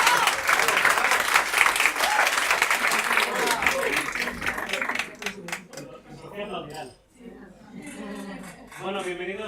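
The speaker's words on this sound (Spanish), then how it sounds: "Aplaudir, por favor." Crowd applause at a Halloween-themed PechaKucha presentation night, loud sustained clapping that thins out and fades as voices and chatter rise underneath.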